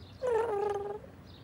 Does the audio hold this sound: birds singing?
no